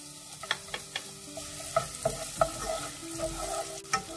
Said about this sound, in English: You need to fry the onion until it golden brown